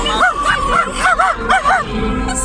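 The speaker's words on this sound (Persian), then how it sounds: "سگ انقلابی من کیه؟" A dog giving a quick series of about eight short, high yipping barks in two bursts, close and loud, with a person speaking faintly around them.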